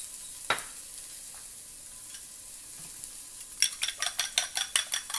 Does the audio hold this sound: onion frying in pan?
yes